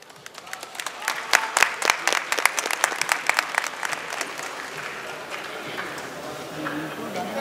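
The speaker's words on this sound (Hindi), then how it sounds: "एक बार जोरदार तालियों के साथ हम जो है अकबर साहब, तनवीर आजाद कलीम साहब का इस्तकबाल करते हैं।" At an all-India mushaira, an audience breaks into loud, dense clapping to welcome guests, with sharp individual claps at first that thin into a steadier patter as the applause fades.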